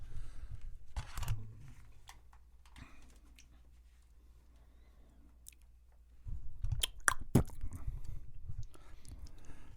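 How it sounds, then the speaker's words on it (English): A person chews food close to the mic, with soft wet mouth noises and crunchy bites that grow louder near the end, with no talking. "Here, we can do some intro with me chewing"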